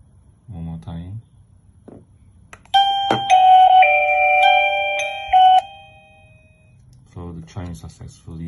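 An SCT smart doorbell chime sounds in one long, bright ringing burst near the middle, loud and close, with a person speaking briefly just before and just after it.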